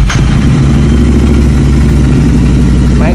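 A 2020 Royal Enfield Interceptor 650 twin with a pair of aftermarket exhausts fires up and settles into a loud, deep, steady idle close by.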